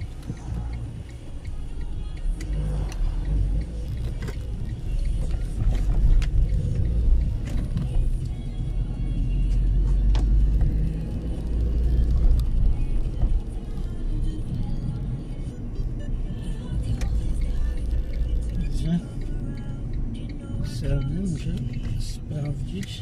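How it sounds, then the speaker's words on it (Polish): Several cars passing from the opposite direction on a Sunday-morning road out of Karłowice, Wrocław, heard from inside a moving car as a steady low rumble with swelling pass-bys, under occasional talk. "Ale z naprzeciwka jedzie kilka samochodów."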